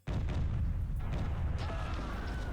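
Cannons firing in the Cossacks strategy video game, a loud sudden booming blast that rolls into a sustained rumbling roar with crackling overlapping shots.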